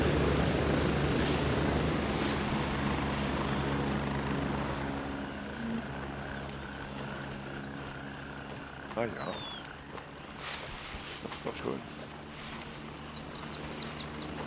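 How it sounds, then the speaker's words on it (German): Helicopter rotor and engine drone in the Gray Zone Warfare video game, a loud continuous chopping hum that eases somewhat midway, with brief clicks and effects layered over it. "Oh, man hängt aber auch eigentlich noch am Hubschrauber"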